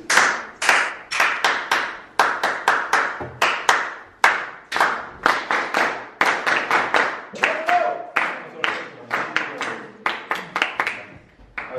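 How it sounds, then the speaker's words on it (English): An audience at a lecture on groove and the brain claps along in a quick, steady rhythmic pattern, sharp close hand claps repeating in syncopated bursts with brief pauses, loud and with no talking over them. "you have to clap drum solo when it goes like this"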